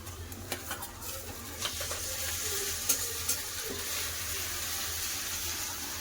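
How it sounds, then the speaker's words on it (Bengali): Ginger-garlic paste sizzles in a pan of fried onions, with a steady, moderately loud frying hiss and a few soft stirring scrapes and clinks throughout. "ভালো ভেজে পেঁয়াজ ভেজে নিয়েছি দিয়ে দেবো আদা রসুন বাটা"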